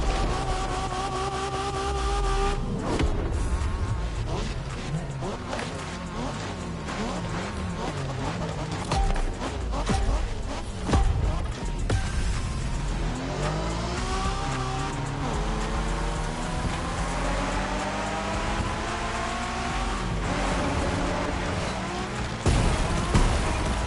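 Engine revving from a car in a Japanese street racing video game on PS5, rising and falling pitch sweeps with tire noise and gear changes, loud and continuous with game audio layered underneath.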